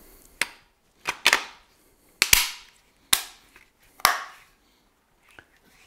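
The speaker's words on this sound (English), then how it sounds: "Pop the upper back onto the lower." An AR15 .22LR rifle upper receiver popped back onto its lower, a series of sharp, close metallic clicks and snaps in irregular succession, quiet between impacts.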